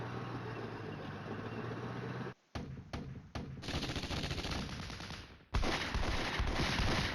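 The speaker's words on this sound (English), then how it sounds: "I think counter battery fire just went off" Rapid overlapping gunfire from a Flashpoint Campaigns: Red Storm battle, dense and continuous, broken by two brief near-silent gaps before the firing resumes just as loud.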